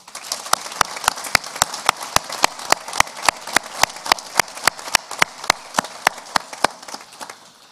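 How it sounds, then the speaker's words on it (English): Applause at a graduation ceremony at Griffith College in Limerick, heard as a steady run of sharp, evenly spaced claps at about three per second, moderately loud over a soft hiss throughout, with no talking. "we might reach out with a round of applause to them too"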